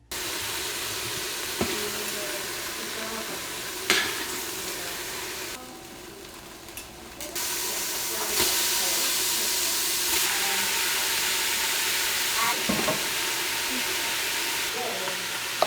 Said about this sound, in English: I'm searing the meat in batches in my Instant Pot in a little bit of butter and